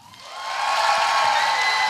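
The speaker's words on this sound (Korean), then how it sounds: "박수와 함성이야" A large university audience at a Korean language center summer event breaks into applause and cheering, swelling quickly from quiet to a loud, sustained roar of clapping and shouts.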